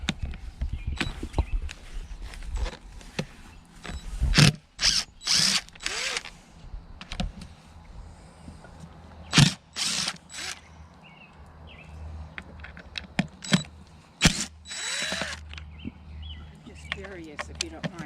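A power drill whirs in short bursts, removing screws from the head of a pool sand filter, with clicks and handling noises between them as people talk throughout.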